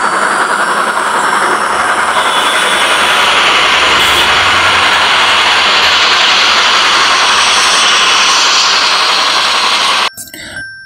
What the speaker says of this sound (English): Train driven by steam engine.